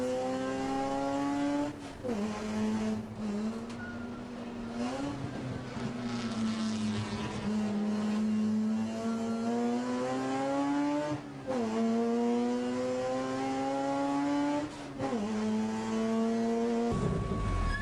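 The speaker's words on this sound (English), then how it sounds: "Curt gets a great start off of his turbo Dodge" A turbo Dodge touring race car engine roars steadily at a race start, its pitch climbing and dropping through several gear changes as it accelerates hard, loud and close throughout.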